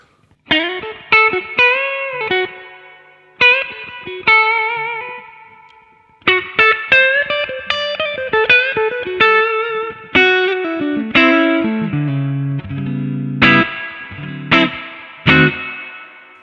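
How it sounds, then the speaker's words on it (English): Electric guitar plays distorted notes and chords, each drenched in heavy reverb that rings out and trails off between phrases. "add some more reverb"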